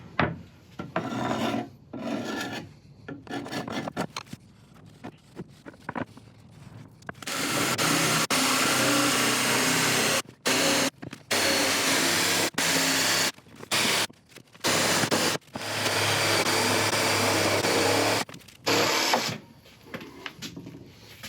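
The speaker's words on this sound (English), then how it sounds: "get out the jigsaw, cut it out, and then get it on the lathe" Jigsaw cutting a circular blank out of thuya burl, loud sustained rasping bursts of several seconds each, stopping and restarting repeatedly, close and alone without talk.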